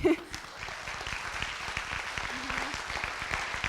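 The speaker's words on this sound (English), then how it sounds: "I just want to go ahead and give a round of applause to Victor and Paul back there." An audience at a medical access conference plenary session applauds in a steady wash of clapping from start to finish, with a few voices underneath.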